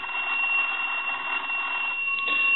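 Western Electric Rotary 202 telephone's bell ringing steadily, a bright continuous metallic ring close by with no voices.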